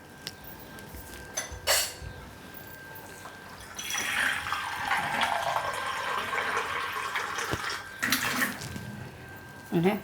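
Water is poured into a glass over mint syrup and ice cubes, a steady rushing splash lasting several seconds, close and fairly loud, with brief clinks and handling sounds before and after.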